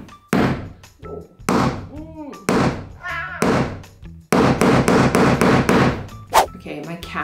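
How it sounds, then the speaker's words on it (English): A hammer strikes a metal snap setting tool in a series of sharp, ringing thunks, spaced at roughly one-second intervals and then quickening into rapid repeated blows, with metallic clangs between hits. "okay, with the hammer."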